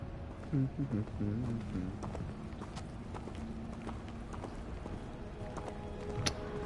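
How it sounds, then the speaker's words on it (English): Horses pulling a carriage clip-clop steadily in Hogwarts Legacy, their hoof beats running throughout beneath ongoing speech and ambient game sound, with a sharp accent near the end. "the horses that pull the carriage"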